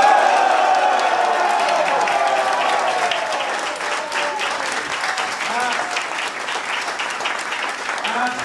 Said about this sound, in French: Je veux que nous applaudissions ensemble Marion Maréchal et ses courageux policiers